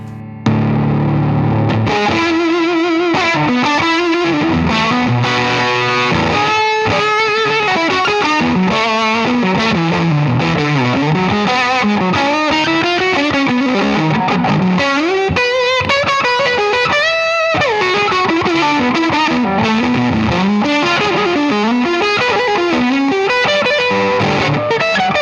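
Electric guitar with fuzz distortion played through a Walrus ACS1 amp pedal, a thick, saturated riff and sustained notes running continuously and loud for about twenty-five seconds with no talking.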